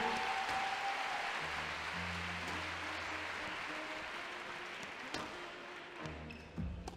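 An audience at a youth badminton exhibition match at the Open de France in Nantes applauds loudly for several seconds, the dense clapping slowly thinning out, with faint bounces and taps in the hall.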